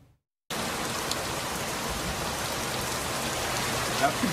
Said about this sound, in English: Heavy rain hitting Idlewild hard.